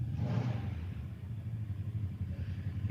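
A powersports engine is revved on a lab test setup by feathering the throttle a couple of times, giving a steady loud mechanical drone with a brief rise early on, close and without talk.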